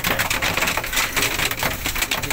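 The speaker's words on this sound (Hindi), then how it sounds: "देखिए बारिश हो रहा है" Rain falling steadily at a railway station platform in snowy weather, a dense, loud hiss with crackling patter on surfaces, continuous and close, no talk.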